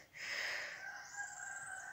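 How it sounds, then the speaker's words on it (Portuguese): A rooster crows once at a rural country property, a clear drawn-out call that rises and then tails off, heard alone at moderate distance without talk. "Esses galos cantando."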